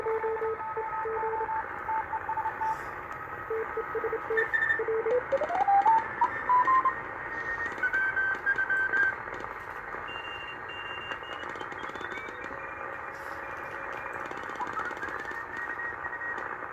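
Overlapping amateur radio signals received on a BitX 40 transceiver: sliding, wavering tones and tuning whistles drift over a constant hiss of band noise, with competing transmissions crowding the same frequency and no clear speech.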